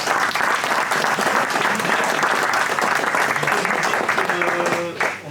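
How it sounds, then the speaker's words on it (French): Loud, close applause from an audience clapping for a sports and culture club's team fills the room continuously, with voices briefly rising beneath the clapping near the end. "Ils sont tous là, donc applaudissez-les"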